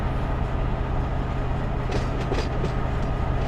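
A train rolls along track in the Run 8 Train Simulator III game, a steady low rumble of wheels and cars with faint rhythmic clatter and a brief brighter rattle midway, no talking.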